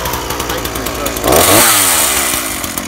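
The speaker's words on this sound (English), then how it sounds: "Chainsaw starts." A chainsaw revs up loudly right up close, its engine climbing in pitch to a high whine and then settling into a steady rattling idle.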